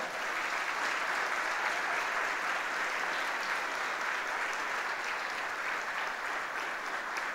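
A church congregation applauding during a Portuguese-language sermon, a continuous even wash of many hands clapping, steady and somewhat distant for several seconds.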